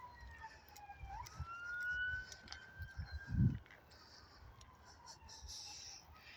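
A distant siren wails and rises steadily, fairly faint, over low background rumble, with a brief thump midway.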